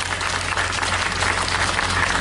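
Audience applause at a local event in Dongshan, Yilan, for the people on stage and the performers: steady, dense clapping filling the whole stretch at even loudness, with a low hum underneath.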